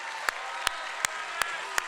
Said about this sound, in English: can we give him one more round of applause for happy birthday?